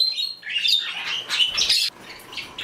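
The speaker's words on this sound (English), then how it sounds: "I have 3 cockatiels." Cockatiels chirp and squawk in a bird room, giving close, loud, high whistling calls in quick overlapping bursts with short gaps between them.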